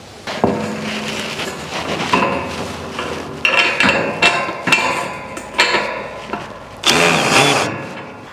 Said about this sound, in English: put your top strap on and screw your bolts into place